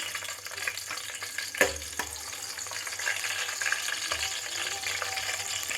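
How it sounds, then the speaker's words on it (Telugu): Chopped green chillies frying in hot oil for a vegetable biryani, a steady broadband crackle and sizzle with a sharp burst as they hit the pan, continuing evenly with occasional stirring clatter, no voices. "ఆయిల్ అయితే హీట్ అయిపోయింది ఫస్ట్ ముందుగా కట్ చేసి పెట్టుకున్న పచ్చిమిర్చి అయితే వేసుకుంటున్నాను నేను"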